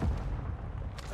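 Mortar fire in a video game lands as a deep, rumbling boom that fills the short moment, heavy and close, with no voices over it.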